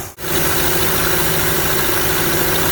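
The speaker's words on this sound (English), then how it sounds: "while the old milling machine's running away and the stops are doing their magic" A Harrison milling machine taking a cut on hard steel, its motor drone and steady mechanical hum running loud and continuous with a fixed tonal whine throughout, close by and with no talk.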